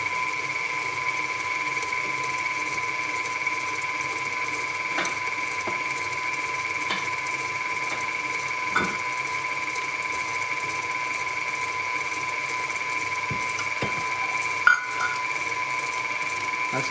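An electric mixer creams melted fat into the batter for a Mexican fruitcake, giving a steady, even motor whine that runs the whole time with a few faint clicks and knocks.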